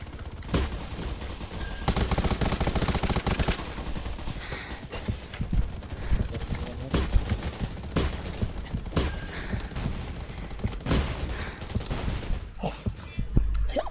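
Dense bursts of gunfire in the Undawn shooter game, with rapid repeated shots and heavy impacts running nearly continuously throughout the clip, loud and close, mixed with clattering game effects.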